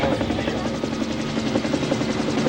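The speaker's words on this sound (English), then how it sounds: "And now I can hear the helicopter coming" A helicopter carrying a horse approaches over open country near a ranger station, its rotor a steady, continuous throbbing chop that fills the air at a constant loudness throughout.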